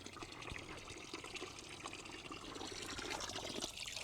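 Cold spring water trickles and splashes steadily at a public spring in Peredelkino near Moscow, a close, continuous watery patter with no talking.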